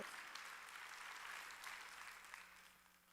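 A church congregation applauding during a Wednesday worship service: dense, steady clapping from many hands filling the room, holding level before easing slightly toward the end, with no voices over it.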